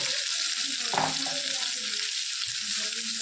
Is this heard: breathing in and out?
no